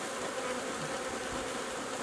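Around a newly populated hive with its top open, honeybees hum continuously and densely, close by and steady throughout.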